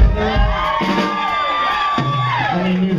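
Club crowd at the Continental Club cheering, whooping and shouting loudly in a sustained burst with rising and falling yells.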